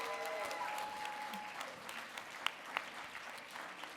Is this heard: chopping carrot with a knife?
no